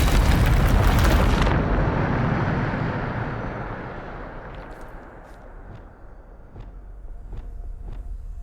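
A Depulso spell blast in Hogwarts Legacy: a heavy, loud explosive burst that rumbles and fades over several seconds, followed by faint scattered clicks and pops.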